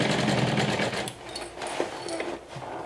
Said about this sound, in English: So I'm just sewing through 2 layers of lining.